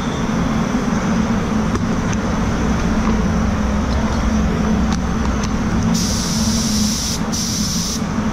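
A spray gun lays base coat onto an Audi A3 in a spray booth, giving a loud, constant hiss with a low rushing airflow underneath, unbroken throughout with no talking.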